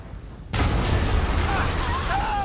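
A sudden loud boom erupts in the game Marvel's Spider-Man after a short quiet moment, followed by a sustained rumbling roar with faint high whines.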